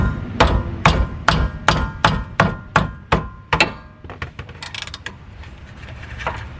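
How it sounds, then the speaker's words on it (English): A rubber mallet strikes the bolts of a rear wheel hub on a 2002-2006 Nissan Altima, about eight loud, evenly spaced thuds, followed by quieter, scattered knocks and clatter. "you get a rubber mallet and just kind of break it loose."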